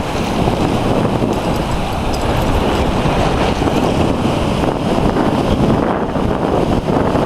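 Ocean waves and strong wind at an off-leash dog beach in Ocean Beach, a loud, continuous wash of surf and gusting wind buffeting the microphone, with no pause or voice.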